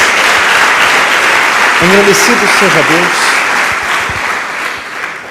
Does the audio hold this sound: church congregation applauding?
yes